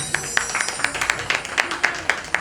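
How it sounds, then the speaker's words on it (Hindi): Audience applause for the musicians at a cultural society tribute event for artists, a sparse, uneven patter of individual hand claps from a small crowd, moderately close, with faint voices underneath. "और आप प्लीज़ जो मेरे म्यूजिशियन है ना, इनके लिए ज़रूर ताली बजाएं"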